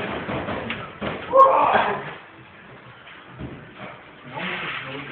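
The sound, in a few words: door and window slamming in a storm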